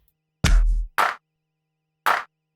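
A heavy, booming kick drum layered with a sharper hit, followed by sparse clap-like strikes separated by short silences, dry and close.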